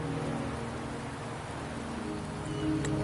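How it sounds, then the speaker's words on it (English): Steady rain falls in the video game Wuthering Waves on PS5, a constant even hiss of drops with no talking over it. "The rain is subsiding, and the sky will soon clear."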